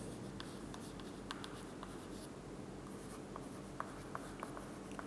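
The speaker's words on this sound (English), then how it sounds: "So I'll write it down" Someone writes on a board in a physics lesson, producing faint, scattered scratching taps over a quiet room hum.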